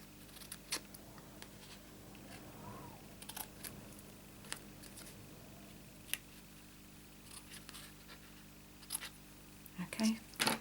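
Scissors snip excess bits of paper off a shaped easel card, with soft, sparse cuts and a few sharper clicks that come close but stay quiet, while someone talks intermittently.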